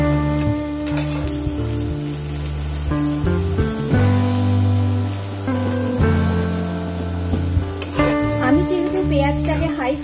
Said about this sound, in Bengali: পেঁয়াজগুলোকে আমি গোল্ডেন ব্রাউন করে ভেজে নেব।